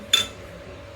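A spoon scooping filling gives one short, bright metallic clink against a dish, followed by a faint steady background hum.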